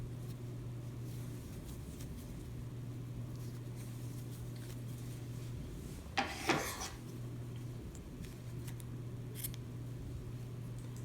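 Scissors snipping off crochet yarn at the end of a row of a crocheted Halloween top, a brief close double cut over a quiet hum, with no speech.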